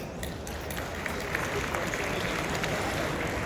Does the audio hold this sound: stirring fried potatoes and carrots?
no